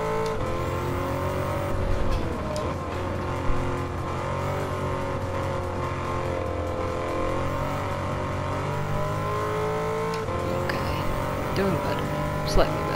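A Lamborghini Urus super SUV engine in Gran Turismo 7, droning steadily with shifting pitch as it shifts down and brakes, with tire noise under someone talking.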